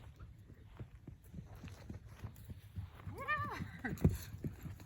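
A cold-blooded draft horse's hooves clip-clopping at a walking pace over quiet ground while ridden bareback, with the horse whinnying briefly near the end and faint voices in the background.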